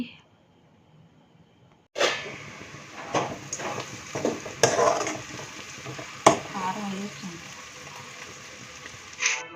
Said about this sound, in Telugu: కాకరకాయ ముక్కలు ఆనియన్ ముక్కలు అయితే మంచిగా ఒక పది నిమిషాలు అయితే మగ్గనివ్వాలి